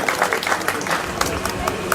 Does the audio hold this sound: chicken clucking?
no